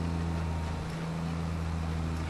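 A tractor engine in the Farming Simulator 22 video game hauls bales, giving off a steady, low droning hum with a constant pitch and no pauses throughout.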